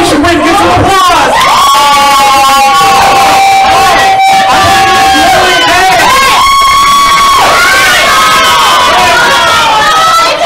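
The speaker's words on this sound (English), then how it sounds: "You think Lily A should win, give some applause!" A live game show studio audience cheers and whoops for a contestant, loud sustained shouting and yelling from many voices, with high held cries rising above the crowd throughout.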